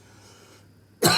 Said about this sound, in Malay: Batuk-batuk pula.